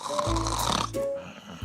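A man acting out snoring, giving a loud, close rasping snore on the inhale followed by a shorter breathy snort, a voice imitating the sound.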